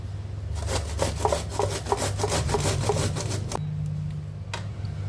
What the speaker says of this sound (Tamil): இந்த மாதிரி கொஞ்சம் பெரிய பல் இருக்கிற சைடாக பார்த்து துருவிக்கலாம்.